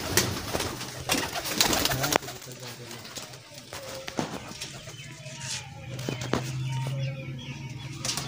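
Sialkoti pigeons coo in low, repeated murmuring calls beside someone talking nearby, with some shuffling and rustling in the background.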